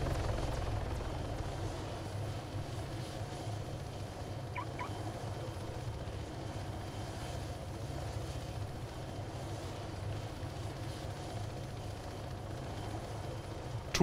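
A Hummingbird helicopter in the military game Arma 3 gives off a faint, steady low rotor drone that holds evenly and quietly throughout, with no voices over it.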